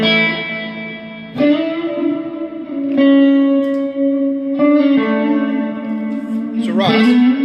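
Electric guitar chords played through a Boss MS-3 switcher's factory effects presets, loud and heavily processed with distortion, chorus, echo and reverb, several strummed chords ringing out in turn with a brief noisy scrape near the end.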